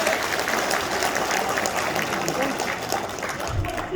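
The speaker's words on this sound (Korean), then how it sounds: "큰 박수 부탁드립니다" A large crowd at a People Power Party members' rally claps steadily in a dense, continuous round of applause, with voices mixed faintly underneath.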